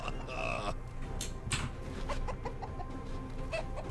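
Clucking chicken laugh emote from the chicken skin of the champion Galio in League of Legends, a run of quick, bright clucks lasting several seconds over a steady game background, with no talking.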